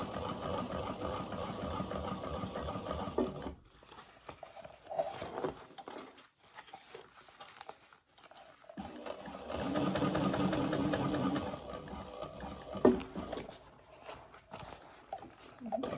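A sewing machine stitches a butter bag in bursts of steady mechanical whirring, stopping and starting as the bag is repositioned, with the loudest run near the end.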